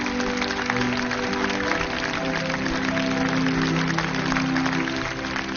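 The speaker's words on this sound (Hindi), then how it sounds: "जोरदार तालियों से इनका स्वागत कीजिए।" An audience claps continuously to welcome a local MLA onto the stage, a dense, even wash of applause lasting several seconds over a faint musical backdrop, with no speech.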